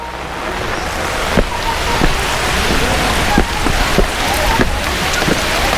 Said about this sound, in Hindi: बारिश कम होने का नाम ही नहीं ले रही है।